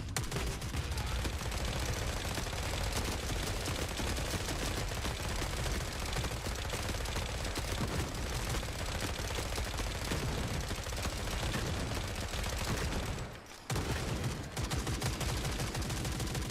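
Continuous gunfire from a ten-round gun in the video game Forever Winter, dense and loud, with shots rattling almost without pause for the whole stretch apart from one brief gap.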